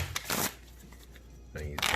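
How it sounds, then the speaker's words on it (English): A deck of playing cards being shuffled for a magic trick: short riffling bursts near the start and again at the end, close and crisp, with a quiet gap between them. "shuffle the cards as well."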